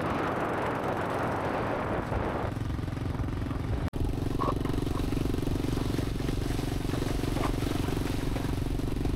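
A motorbike ridden across a tidal beach where the sea has drawn back, its engine a steady droning hum over wind and rushing noise, with a single sharp click partway through.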